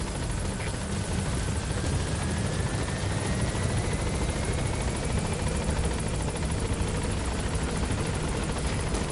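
Video game helicopter arriving at a landing zone, a continuous loud rotor thump and engine roar filling the whole stretch, no talking.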